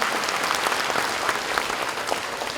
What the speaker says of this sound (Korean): 박수 좀 부탁드릴까요?